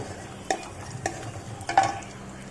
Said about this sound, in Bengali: বাদামগুলো একটু ভাজা হয়ে গেলে আমি কিশমিশগুলো এর ভিতর দিয়ে ভেজে নেব